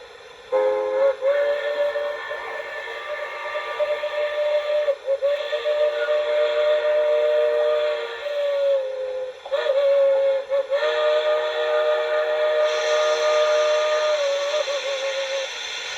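A steam locomotive crossing whistle from the sound decoder of an LGB Aster Mikado model sounds a sequence of long blasts with short gaps, loud and steady, the chord-like tone wavering slightly between blasts.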